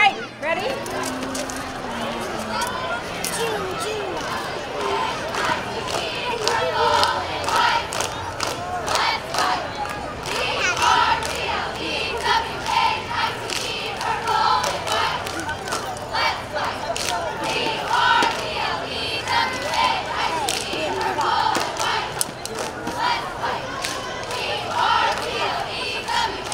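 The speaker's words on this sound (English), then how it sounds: "Are you guys gonna do a cheer for us?" A youth sports team chants a cheer together at a Pleasant Hill, California Fourth of July celebration, a crowd of young voices shouting in rhythm over steady outdoor crowd noise and talk throughout.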